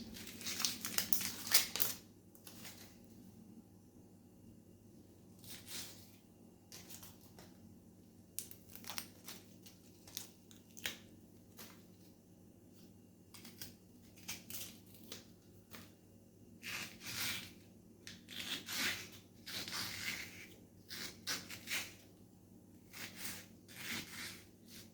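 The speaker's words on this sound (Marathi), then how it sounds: "2 हिरव्या मिरच्या घेतल्यात मी आणि एक छोटासा आल्याचा तुकडा घेतला आहे आणि 2-3 कांदे घेतले, ते आपण कापून घेऊयात" Onions, green chillies and a small piece of ginger are chopped for butter pav bhaji, close crisp crunching knife strokes arriving in irregular bursts with pauses between, over a quiet kitchen background.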